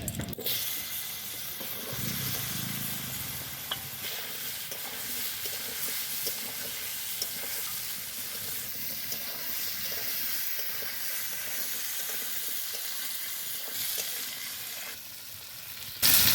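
Cut potatoes and eggplant hit hot oil already tempered with a whole bay leaf, dried red chilli and cumin, sizzling steadily and loudly up close in a pan for the whole stretch, a brief clatter near the end.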